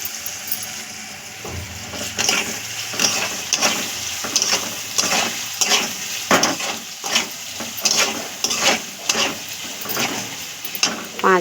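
Spices frying in a pan for a dried-fish dish, stirred with a utensil: steady sizzle under repeated scraping strokes in an uneven rhythm, close and fairly loud, with no talk.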